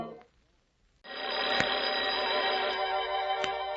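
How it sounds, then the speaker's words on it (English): Telephone bells ring as a radio-drama sound effect, starting abruptly after a brief near-silence and continuing as a loud, steady metallic jangle with sharp clicks. "I shook my head, trying to get the bells out of it."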